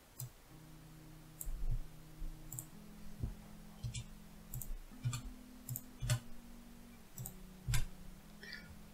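A computer mouse clicks quietly and sparsely while text is selected and dragged in a Word document, giving single and double taps spaced irregularly over a faint low hum with no voice.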